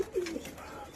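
Pigeons in their coop, kept in pairs with chicks, coo softly in a short, low, fairly close burst over a faint background hum.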